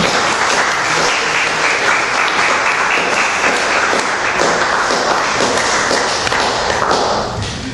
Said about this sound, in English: Please, with a round of applause, welcome up the amazing Arabian, Manar Muhammad.